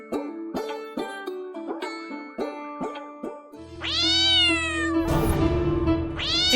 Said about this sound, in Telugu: ఉదయాన్నే నల్ల పిల్లి ఎదురొచ్చిందేంటి?